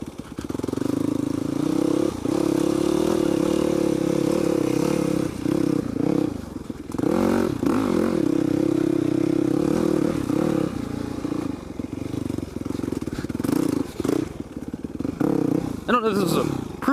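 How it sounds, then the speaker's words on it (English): A Yamaha WR250F motocross bike on 17-inch slicks rides through woods, its four-stroke engine droning steadily up close with revs rising and falling, a few brief dips and some clatter over rough ground. "WR250 F, motocross bike."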